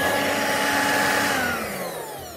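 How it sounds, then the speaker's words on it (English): A Dirt Devil 500 series hand vacuum (DD520) runs steadily and loudly with a broad motor whine, then eases slightly in pitch and level toward the end, with no talking. "Now you can vacuum the belt."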